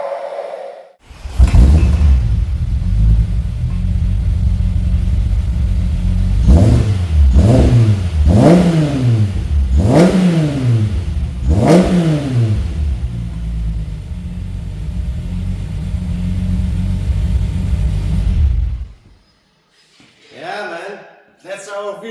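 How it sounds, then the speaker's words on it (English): A purple VW Golf MK3 VR6 Syncro engine, cold, starts with a loud crank and settles into a steady rumbling idle, then gets five sharp throttle blips in a row before shutting off, followed by brief talk. "That's how a VR6 supposed to sound, right?"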